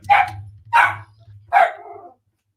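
A sausage dog barks three times in quick succession, loud and close, each bark sharp with a slight whining tail, over a low indoor hum.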